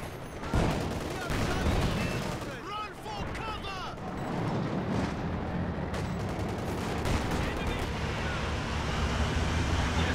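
Battlefield barrage in Company of Heroes 2, with a Soviet Katyusha rocket salvo and a rattling machine gun amid dense ongoing combat, continuous and loud with sharp cracks and booms layered over a rumbling background.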